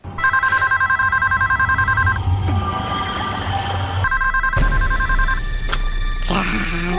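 A telephone rings in a horror film, Doll Graveyard, with a loud, steady electronic ring that repeats in bursts while other effects shift underneath, with no talking.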